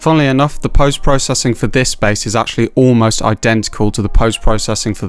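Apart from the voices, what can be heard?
No distinct noise like a dog, phone or traffic.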